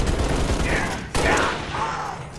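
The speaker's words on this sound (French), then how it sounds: "Tir de suppression." Suppressive gunfire in the Halo Reach video game crackles in rapid, dense bursts, loud and continuous with a sharp break midway.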